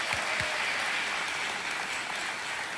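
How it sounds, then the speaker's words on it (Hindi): Applause welcoming a contestant's mother on a TV show, a steady wash of clapping from a studio audience filling the whole moment with no voices over it. "तालियों के साथ आपका स्वागत करते हैं"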